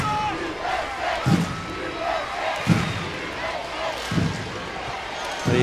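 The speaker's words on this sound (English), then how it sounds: "They are being given a rousing send-off here" A stadium crowd in Hartford roars for the US women's soccer team's send-off after a friendly against Mexico, a sustained distant cheer broken by a few heavy thumps, with a commentator talking over it.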